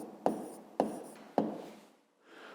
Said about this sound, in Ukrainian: Записуємо тоді відповідь. Записуємо 6 чисел.